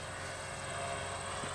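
A Dynam radio-controlled model plane with an electric motor flies overhead, its steady buzzing drone continuous and fairly loud over the open field.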